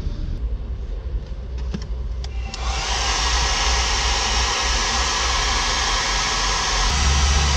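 A hair dryer powered by a small inverter in a van, which is overheating: quiet hum at first, then the dryer kicks on into a loud, steady, close rushing whir that holds to the end.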